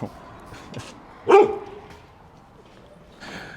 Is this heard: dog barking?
yes